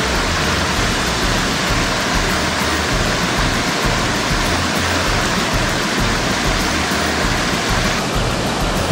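A mountain creek on a backpacking route near Big Elk Creek, flowing steadily and loudly. Its continuous broadband rush is close and unbroken throughout, with no voices.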